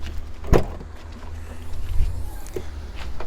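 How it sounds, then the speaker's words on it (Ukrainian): A minivan's rear boot clicks and thumps open up close, followed by softer mechanical clunks and a faint motorized hum. "давайте заглянемо у багажник даного автомобіля"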